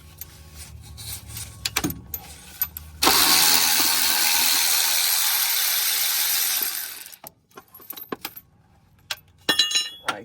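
An electric ratchet spins out bolts on a 2.4 Honda Accord, a loud continuous whirring burst lasting about four seconds, framed by shorter clanks and tool handling before and after.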